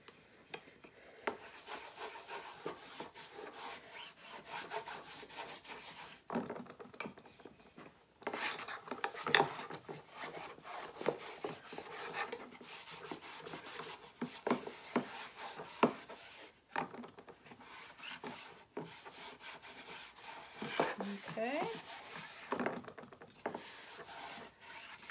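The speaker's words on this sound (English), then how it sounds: "So I'll just rub a little bit of this on it." Dark wax rubbed onto a chalk-stenciled wooden piece with a scrap of old cotton t-shirt, giving soft, steady scrubbing and rasping strokes with brief pauses, close and fairly quiet, with no voices.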